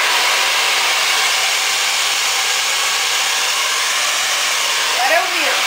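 A hair dryer roars loud and close, drying hair at the roots with a continuous airy blast. A voice briefly rises over it near the end.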